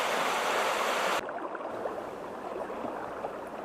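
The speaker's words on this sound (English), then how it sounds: "On this trail, the sound of the river is always strong in the background." The Russian River in Alaska rushes along a rocky trail, a steady broadband roar of flowing water heard alone, strong and continuous throughout.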